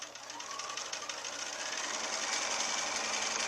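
A sewing machine runs steadily, stitching a quarter-inch seam on quilt log-cabin pieces without pins, a fast continuous mechanical whir with even rapid needle ticking, close and alone for a few seconds.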